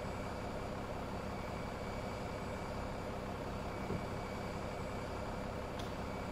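Airliner engine running in the FlightFactor A320 simulator, a steady, unchanging hum and roar held at a constant level throughout with no other sounds.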